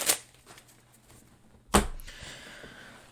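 An Illusionist cardistry deck of playing cards handled and shuffled close by, a soft opening flick, quiet handling, then one sharp riffling burst followed by a fading rustle.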